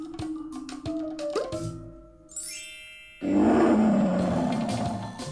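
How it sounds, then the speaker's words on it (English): A lion roars loud and close, a long rough rumble that swells after a short rising call, with faint chiming sounds before it. "Lion. Lion lives in wild area."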